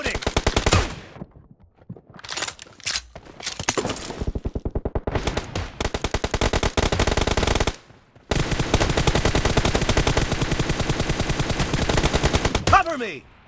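Gunfire in a PUBG team deathmatch, long loud bursts of rapid automatic fire with brief pauses between, close and dominant, with short shouted in-game voice lines in between.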